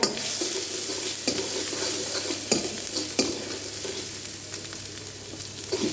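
Chopped garlic and ginger stir-fried in a pan for vegetable Manchow soup give a steady, moderate sizzle with occasional sharper scrapes and taps of a utensil.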